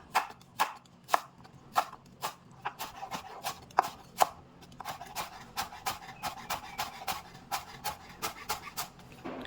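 A knife chops lemongrass finely on a cutting board in quick, sharp strokes that come close and loud, first spaced apart and then in a steadier, faster rhythm.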